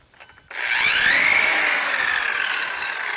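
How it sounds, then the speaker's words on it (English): A circular saw running on generator power spins up after a brief quiet start, its whine rising and then holding a steady high pitch close by. "These circular saws they draw a lot,"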